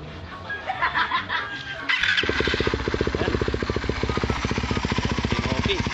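Honda Raider 150 FI motorcycle engine with a new Pitsbike throttle body, first faint then settling into a loud, close, rapid pulsing idle from about two seconds on, with speech over the early part.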